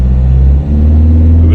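A car engine holds high, steady revs in fifth gear while the clutch is being deglazed, giving a loud continuous droning rumble with a brief dip partway through.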